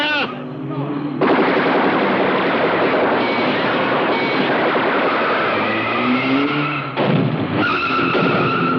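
Sustained gunfire in a film battle scene pours out loud and dense for several seconds, with a brief break before it resumes, and shouting voices appear over it.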